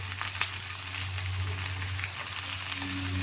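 Okra and onion frying in oil in a kitchen pan, a steady, moderately loud crackling sizzle with occasional stirring taps over a constant low hum, no voices.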